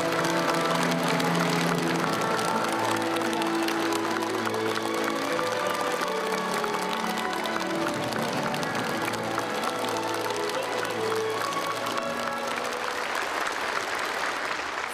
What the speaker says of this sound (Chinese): 在热烈的掌声中